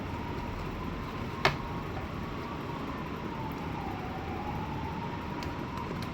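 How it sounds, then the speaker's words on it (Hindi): Distant emergency siren, ambulance or fire engine, wailing steadily in a slow rising and falling tone throughout, faint under broadband outdoor noise, with one sharp click near the start. "एम्बुलेंस का आवाज़ आ रहा है"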